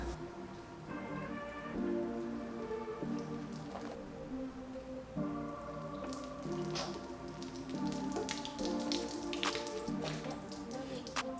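Water running and dripping over a Chevy Astro van during a leak test, with irregular patters, splashes and droplets striking the body, fairly quiet and close, with no talking.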